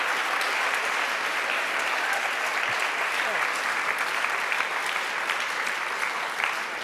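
A large audience at a literary reading event claps steadily and loudly throughout, a dense continuous wash of applause with no break.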